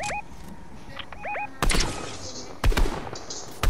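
Pistol shots in the Fortnite video game, a few sharp, loud cracks spaced apart over quiet game ambience, with faint chirping interface tones early on.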